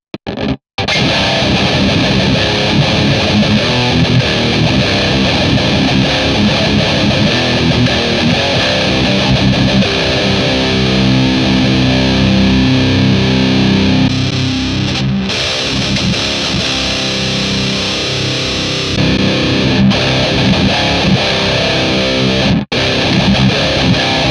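Heavily distorted electric guitar plays riffs through a 4x12 Rev cabinet impulse response captured with a 421 microphone, loud and sustained with chugging palm-muted notes and brief stops.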